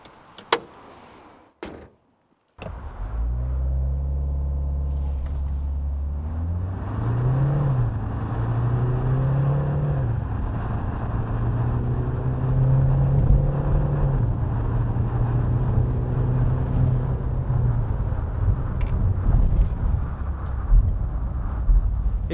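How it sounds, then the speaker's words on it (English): A 2019 Kia Sportage SUV with a 2-liter diesel and 8-speed automatic driving the front wheels accelerates hard from a standstill, its loud engine drone rising and stepping through gear changes over a steady road roar. "And let me show you how fast Sportage go."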